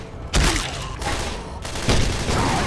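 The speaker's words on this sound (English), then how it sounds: "Use your grenade launcher" A grenade launcher fires in the video game Left 4 Dead 2, with two loud, close blasts about one and a half seconds apart, each trailing into rumbling gunfire and combat noise.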